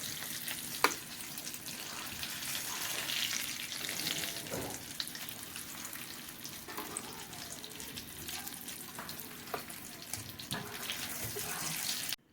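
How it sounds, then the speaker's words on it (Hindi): Shami kababs sizzle in oil in a pan over low heat, a steady, close frying crackle that holds evenly throughout with a few soft clinks. "आपने इसको हल्की आंच पे फ्राई करना है ताकि अंदर से भी ये अच्छे से गर्म हो जाएं"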